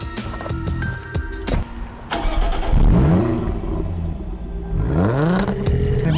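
Jaguar F-Type car engine starting and revving, with sharp clicks and bursts early on, then rising and falling rev sweeps, loud and near with no talk.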